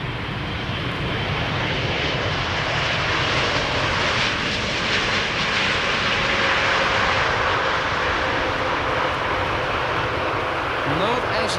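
Airliner landing at Amsterdam Schiphol Airport, a steady broadband engine roar that holds loud and continuous throughout, with people talking over it.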